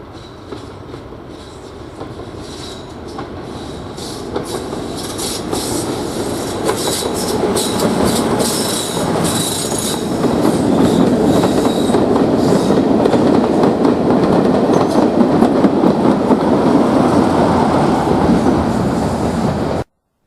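A Class 50 diesel locomotive hauls a train past on the Swanage Railway, with another diesel on the rear, building from a distant rumble to a loud, close roar of engine and clattering wheels that holds steady to the end.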